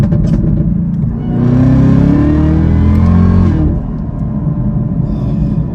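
A 2022 Camaro ZL1's exhaust booms as the car accelerates hard, a deep rising roar swelling over a couple of seconds, then dropping back to a low rumbling burble, heard close and loud.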